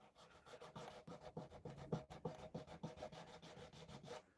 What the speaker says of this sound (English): let's get back to sanding